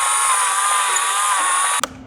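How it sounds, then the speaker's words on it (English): Power drill whining steadily as it wallows out a stuck fuel pump part on an MK7 car, a loud, continuous high-pitched motor drone that stops abruptly near the end. "you take your drill, go in, and then you kind of rock it around like that"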